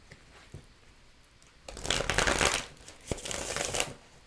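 A tarot deck is shuffled close up in two loud riffling bursts separated by a short pause, the papery card noise standing alone after a quiet stretch.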